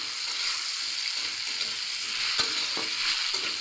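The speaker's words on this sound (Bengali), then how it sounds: "এবারে ভালো করে টমেটোটা সাথে সব আলু আর পেঁপে সব একসাথে নেড়ে নিব" Tomato, potato and papaya stirred together in a hot frying pan, a steady close sizzle with a few sharp scrapes and knocks of the spoon against the pan.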